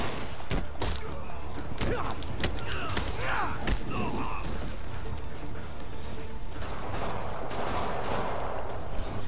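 Enemy gunfire in a Spider-Man video game, with dense bursts of shots and thuds crackling throughout amid chaotic combat noise, with a player's voice talking over parts of it.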